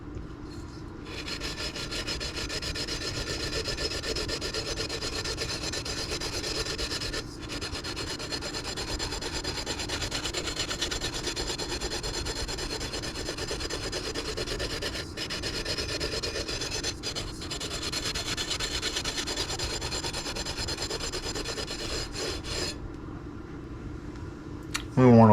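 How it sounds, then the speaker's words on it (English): Guitar fret being sanded by hand with 1200 grit paper, a continuous rhythmic rubbing rasp close up that pauses briefly a few times, under a speaking voice. "keep in mind this is 1200 grit, so it's taking very little off"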